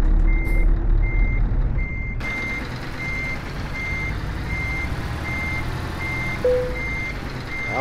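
In Euro Truck Simulator 2, a truck parks with its reversing alarm beeping in an even, repeated pattern over a low engine rumble, with a brief air-brake hiss near the end.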